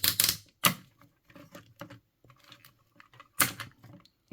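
Plastic parts of a Transformers Studio Series Ultra Magnus figure are folded down, giving sharp, close clicks and snaps in an irregular rhythm, with a few louder pops among smaller ticks and no talking.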